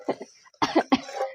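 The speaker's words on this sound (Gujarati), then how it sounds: "ઉધરસ જાય તો જાય" Three short harsh coughs from a person with a cough, close by, one lighter cough followed by two stronger bursts in quick succession.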